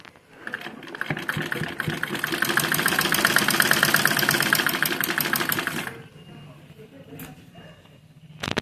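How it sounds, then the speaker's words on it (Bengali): A sewing machine stitching a doubled-over fold of a six-panel petticoat runs in a steady, fast, rattling burst for about five seconds, then stops, leaving quiet handling sounds. "ডবল করে নিয়ে এই আমি আবার সেলাই করব"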